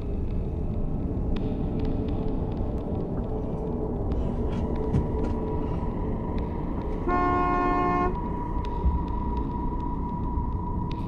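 A car horn honks once in a sustained tone lasting about a second, over a steady low engine rumble from inside the idling vehicle.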